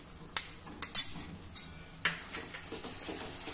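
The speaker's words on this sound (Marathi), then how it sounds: "आता आपल्याला सतत हे परतायचं आहे म्हणजे दही फाटणार नाही।" Spice masala being stirred with fresh whisked yogurt in a pan, with a spoon scraping and clinking against the metal in scattered taps over a soft background of faint sizzling.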